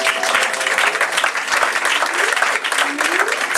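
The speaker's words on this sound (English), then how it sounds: "let's have a round of applause for the captain" An audience gives a loud round of applause for the captain at a stage reading, with dense, sustained clapping throughout and a few voices and whoops rising over it.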